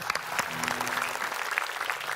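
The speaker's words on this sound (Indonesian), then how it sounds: "Tepuk tangan untuk semua yang sudah merayu." Audience applauding steadily at a comedy-style flirting contest show, dense clapping with a brief voice rising through it.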